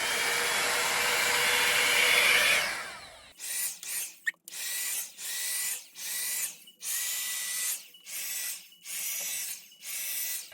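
A Revlon hot-air hair styler runs on its medium setting, giving a loud, steady blowing whoosh close by. It then breaks into a series of repeated, evenly spaced bursts of airflow.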